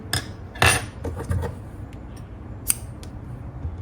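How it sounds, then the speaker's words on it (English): Scissors snip through yarn at the end of a row of crochet, a few crisp metallic cuts spaced across a quiet moment, close and fairly soft. "Cut your yarn"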